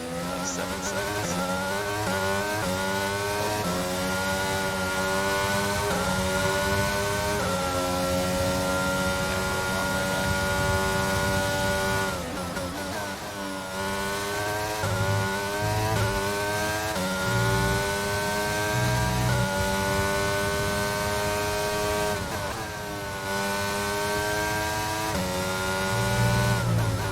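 Formula One race car engine in the F1 22 video game, a loud continuous high-pitched whine that climbs and drops through gear changes, with two brief dips where the revs fall before rising again, no talking.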